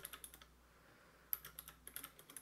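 Typing on a computer keyboard while working in the JMP statistics program: quick clusters of light clicks, then a short pause, then another burst of keystrokes. Faint and close.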